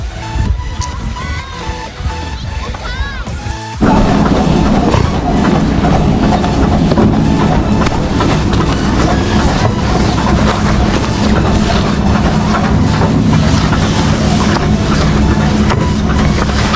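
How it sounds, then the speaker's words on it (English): A snowmaker at a ski slope blasts out snow with a loud, steady, broadband roar that kicks in abruptly after a few seconds of quieter outdoor noise and then holds without a break. "these are, you guys, snowmaker. They just throw up snow."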